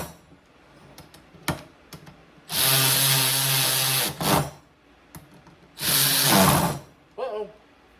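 A cordless power tool tightens the fan clutch bolts on a Chevy truck, two sustained whirring runs of about a second and a half each with short clicks and clatter between them, close and loud.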